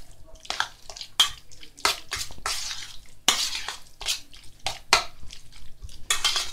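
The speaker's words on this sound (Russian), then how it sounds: "Размешиваем хорошо, чтобы яйцо" Egg being stirred into minced chicken cutlet mixture in a bowl, a run of wet slapping strokes and utensil clinks against the dish, close and irregular with brief pauses.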